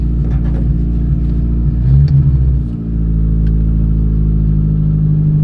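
A Porsche 924 Turbo in rough, neglected condition pulls away, its engine a steady close rumble that rises briefly as the car moves off, then settles back into an even drone.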